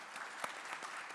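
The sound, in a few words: audience applause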